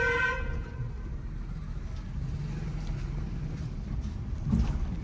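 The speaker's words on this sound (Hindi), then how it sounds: "लॉन्ग हॉर्न प्रेस करो, कंटिन्यू।" A car horn gives one short blast at the start, followed by steady road and engine rumble from inside a moving car in a narrow village lane.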